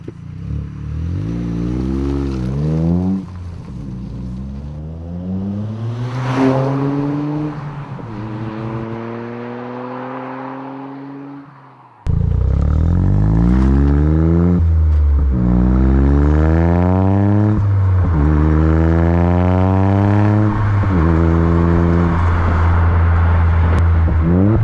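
A Toyota GR Yaris with a stage 3 exhaust revs repeatedly from close by, each blip rising sharply and falling away in a raspy burble, with a second, louder series of revs later, and no talk.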